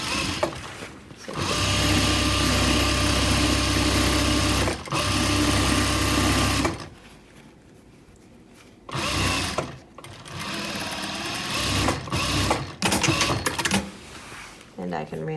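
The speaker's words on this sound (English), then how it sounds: "trying to reinforce that stitch by going around again." Home sewing machine running a reinforcing second pass of stitching on a pouf ottoman cover, a steady close motor whir for several seconds, pausing, then resuming in shorter bursts.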